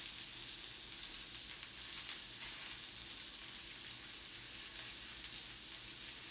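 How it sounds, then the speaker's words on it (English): Spices sizzle steadily on a hot grill for a surf and turf quesadilla, a dense crackling hiss with scattered small pops throughout, close and even in level with no voices. "I got spices popping"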